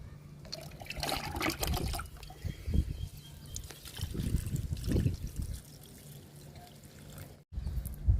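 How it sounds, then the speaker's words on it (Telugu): Liquid fertilizer trickles and pours from a container into the soil of a bushy potted plant, with uneven splashing and dribbling close by, a brief pause, then pouring resumes. "ఈ మొక్క కూడా లిక్విడ్ ఇచ్చేద్దాము."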